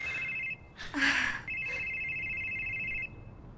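A telephone rings with a steady electronic trill, interrupted briefly by a loud burst of sound before the ringing resumes and then stops.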